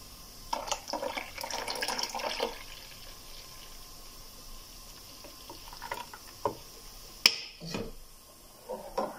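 Water poured into a container of homemade lemonade mixture, a few uneven splashing pours with quiet gaps and one sharp clink near the end, close and moderately quiet.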